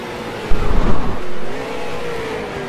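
A street stock race car in the iRacing game, recorded at USA International Speedway, roars loudly as its engine revs and pulls, a rough, rumbling drone that stays constant afterward.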